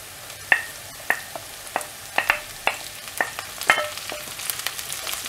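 Garlic, curry leaves and coriander sauté in a pan for raw banana podimas, a faint frying hiss punctuated by a steady series of sharp spatula scrapes and taps.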